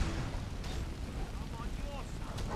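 A fire magic spell burns a frost troll in the Skyrim video game, giving a steady, roaring crackle of flame with whooshing bursts that runs unbroken throughout, with game sounds layered over it.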